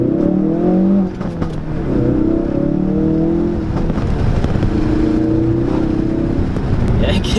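A 2017 Ford Focus RS hatchback accelerates, its engine note swelling and rising in steady revving waves, close and loud, with a voice talking over it.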